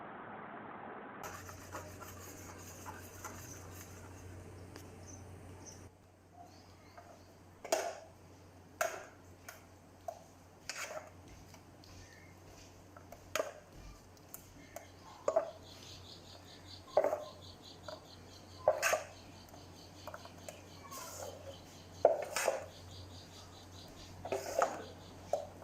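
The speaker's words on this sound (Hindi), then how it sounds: "अब घोल को फिर से हम लोग करछे से अच्छी तरह से हिला के मिक्स कर रहे हैं" A ladle scrapes and knocks against a bowl while pitha batter is stirred for Assamese ghila pitha, producing spaced, sharp clinks and short rubbing strokes over a low steady hum, close and fairly quiet.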